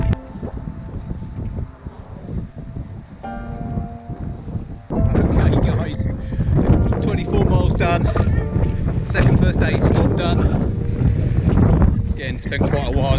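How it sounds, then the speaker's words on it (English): Strong gale wind buffets the microphone outdoors during the Edinburgh Marathon, a loud, continuous roaring rumble that grows heavier and gustier halfway through and stays overwhelming to the end. "It's cold out here. It's blowing a gale."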